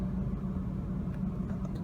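A 2003 Ford F-150 XL pickup truck's engine idles steadily after starting, a low, even rumble that holds without change for the whole stretch, fairly close and with no talking over it.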